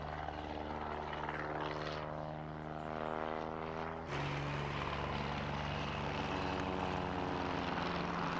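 Two WWI aircraft, an SE-5A and a DR-1, flying at a British air show, their propeller engines droning loud and steady with a pitch that sweeps and then shifts abruptly as they pass.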